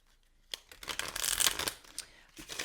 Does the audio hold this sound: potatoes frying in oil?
no